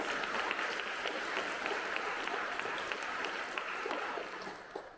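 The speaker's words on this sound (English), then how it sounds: "So I just want to ask if we could give a brief round of applause for Deborah." An audience at a silent-cinema costume design event breaks into applause, a dense, even patter of many hands heard from a distance that holds steady for several seconds and then begins to fade.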